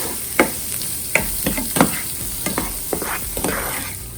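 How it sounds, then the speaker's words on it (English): Peppers, onions and bacon fry in a pan with a constant bright sizzle, while a spatula scrapes and knocks against the pan every second or so; no one speaks. "fry these up until they're soft"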